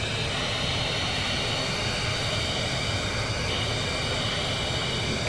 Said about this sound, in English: That's the engine going. Get the second engine going.